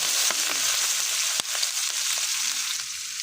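Onions and bay leaves fry in hot oil in a steady, dense sizzle with a few sharp pops and clicks, close and continuous, with no talking.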